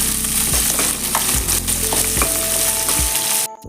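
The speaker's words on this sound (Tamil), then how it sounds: "சின்ன வெங்காயம் ஒரு கப் அளவு கட் பண்ணி வச்சுருக்கேன், அதை போட்டுக்கோங்க" Chopped small onions hit hot oil in a pan for hotel-style sambar, giving a loud, continuous sizzle with a few louder bursts, over a tonal melodic background.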